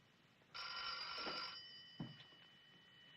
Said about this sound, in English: For pity's sake, it's the phone!